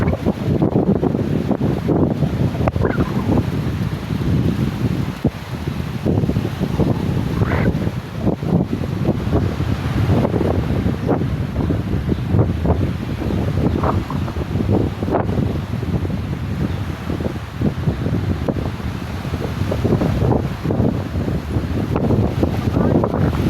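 Strong wind buffets the microphone at sea near a couple of small boats struggling in rough waves, a constant roar with surging water underneath, while people talk over it throughout.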